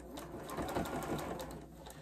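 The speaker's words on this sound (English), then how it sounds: "So I'm going to start right here sewing my fabric." A sewing machine stitches fabric for a soup bowl cozy, including a short back stitch, a steady close mechanical whir running throughout at moderate loudness.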